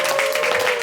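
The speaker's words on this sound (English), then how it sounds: "Big round of applause." A short burst of loud audience applause, many hands clapping together continuously.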